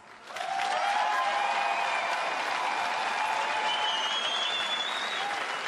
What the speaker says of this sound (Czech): Prosím o bouřlivý potlesk!